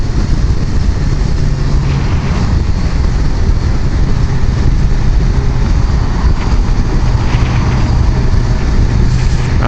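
A BMW S1000XR motorcycle pulls away in first gear, its engine and wind roar loud, dense and unbroken, heard close up throughout.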